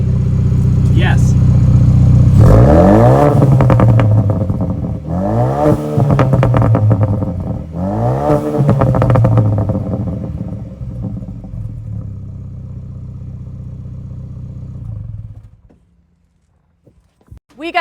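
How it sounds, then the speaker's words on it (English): A 2021 Ford Bronco with a Corsa Performance exhaust idles with a deep burble, then revs sharply three times in evenly spaced bursts, each falling back to idle before the engine shuts off; close and loud. "Now's the fun part where I'm gonna rev it up a couple times"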